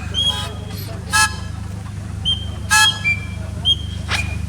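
Several short, shrill whistle blasts sound at intervals over a steady low rumble, with brief gaps of quiet between them.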